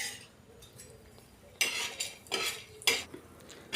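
Chana dal roasting until reddish in a pan is stirred with a utensil, giving three or four bursts of scraping and rustling between quieter moments, near and moderately loud without talk.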